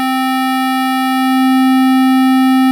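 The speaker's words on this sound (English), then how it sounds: "Hear that sine wave at the low end?" A steady low sine wave hums from a Mutable Instruments Kinks synth module, a pure continuous tone with faint upper harmonics that swells slightly in level partway through, with no voices.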